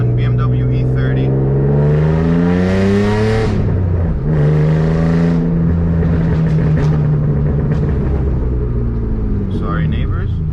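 A 1991 BMW E30 engine revs up loudly nearby, pitch sweeping up, falling, then rising again before settling into a high sustained drone.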